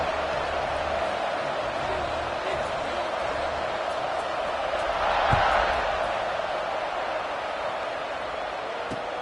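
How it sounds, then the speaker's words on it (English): A stadium crowd buzzes with a steady broad roar after a score in a football video game at Houston, swelling briefly midway, with no talk over it. "this crowd is buzzing after that last score"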